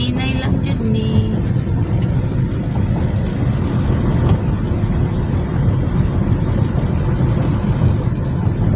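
A motor vehicle engine running during a trip, a steady low rumble with road noise throughout, close and fairly loud, with brief voices near the start.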